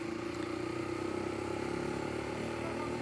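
An SWM Ace of Spades 125 motorcycle is ridden with a steady, close, moderately loud single-cylinder engine drone and a little road and wind noise, with no talking.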